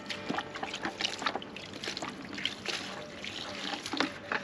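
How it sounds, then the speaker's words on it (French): Water splashed by the handful into pigeon droppings being mixed as fishing groundbait for roach, giving soft wet trickles and splashes close by with no talking. "Alors j'ajoute juste une ou deux poignées d'eau."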